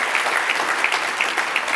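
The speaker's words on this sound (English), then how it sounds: "please, let's give him a round of applause" Dense, steady applause from a conference audience at a leadership event fills the room, sustained and fairly loud from start to finish with no speech on top.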